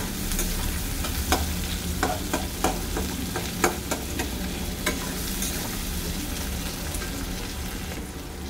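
Chopped onion fries in a pan with a continuous loud sizzle, broken by repeated scraping stirs from a spatula at an uneven rhythm, and no one speaks.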